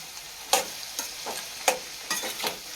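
Vada curry being stirred in a pan, several distinct scraping strokes of the spoon spaced irregularly over a quiet simmering background, close and clear with no talking.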